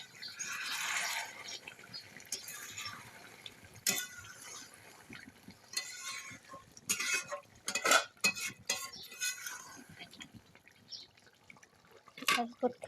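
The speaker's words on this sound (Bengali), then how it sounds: "ঢাকনাটা উঠে একটু ধীরে করে নাড়াচাড়া দিয়ে দেবো।" A spoon stirs curry in a metal pot after the lid comes off, with scattered scrapes, clinks and wet sloshing in uneven bursts. A voice talks over part of it.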